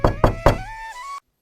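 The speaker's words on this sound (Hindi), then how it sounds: "वेदांत के घर का दरवाजा बजाने लगते हैं।" Three loud, evenly spaced knocks on a house door in a village, each sharp and close, followed by a ringing tone that fades to silence.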